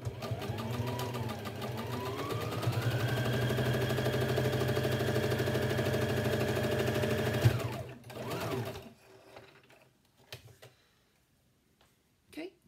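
A sewing machine stitches pipe cleaner along the top of a fabric mask, a loud, steady motor whine with rapid needle chatter that rises in pitch, then stops, followed by a few soft handling clicks.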